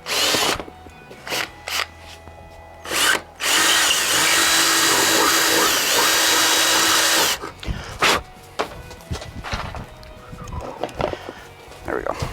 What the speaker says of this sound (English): we're just going to go ahead and drill a pilot hole so we can get in with the saw